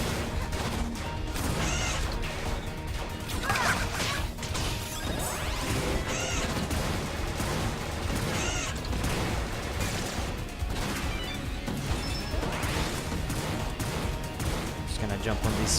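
Turrets firing in the video game Freedom Planet, a run of sharp crashing shots and impacts that repeat steadily over loud, continuous game music.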